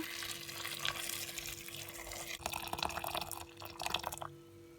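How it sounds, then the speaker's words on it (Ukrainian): Boiling water is poured over morel mushrooms, giving a steady splashing and trickling with slight breaks and drips, fairly faint and with no voices. "Щоб це було швидше, я заливаю гриби окропом."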